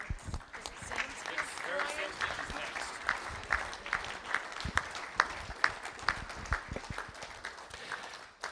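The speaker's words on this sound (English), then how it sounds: "Let's give them a round of applause." Audience at a school board of trustees meeting claps, steady scattered applause with distinct individual claps, moderately near, a voice talking over it.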